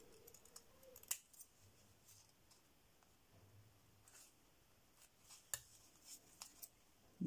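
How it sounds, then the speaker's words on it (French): Small scissors snip paper quietly a few times, sharp little clicks spaced out over a soft, quiet background. "Je vais prendre mes petits ciseaux."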